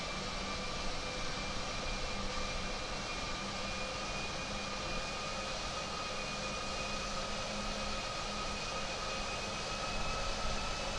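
MD-11 jet engines spooling up in Microsoft Flight Simulator 2020, a steady broadband roar with faint rising tonal whines, constant and moderately quiet with no talk.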